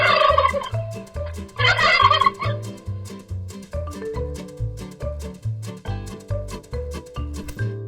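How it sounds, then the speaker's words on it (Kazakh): A cartoon ostrich call comes as a rapid, gobbling warble repeated in a steady pulsing rhythm, loud and close, over a tonal, musical backing. "Түйе тауық клю-клю-клю-клю, клю-клю-клю-клю дейді."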